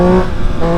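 A 183-horsepower motorcycle engine revs loud and close, a sustained harmonic drone that dips briefly and climbs again, heard through a rider intercom with no talking.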